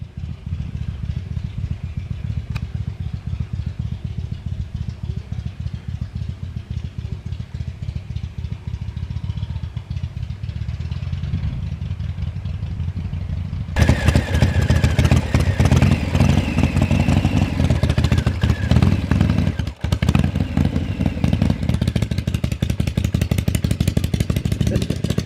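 A Shovelhead motorcycle fitted with a rocker clutch idles with a steady clattering thump, then pulls away as the engine note rises louder and rougher, running continuously nearby.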